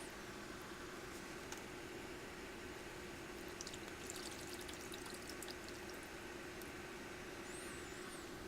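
Water pouring faintly and steadily over a baked chocolate donut pan while it is cleaned, a soft continuous trickle with a few light clicks and no talking.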